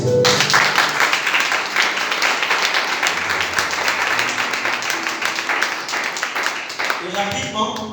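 A church congregation applauds in praise, steady dense clapping sustained throughout at close range, with a preacher's voice coming in under and after it.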